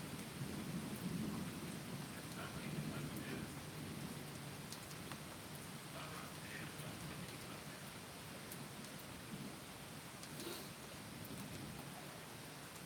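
Steady rain pours down during a thunderstorm, with low rumbles of thunder rolling underneath; a continuous, fairly faint wash of noise without any voices.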